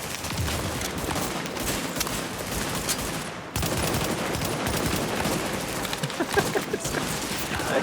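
Dense, continuous automatic gunfire from The Division video game fills the scene, with rapid overlapping bursts and shots that stay loud throughout and break only briefly midway.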